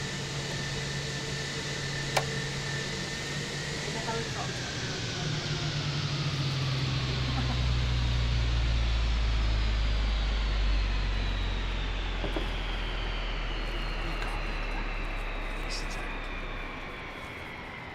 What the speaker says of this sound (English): let's just shut the aircraft down, shall we?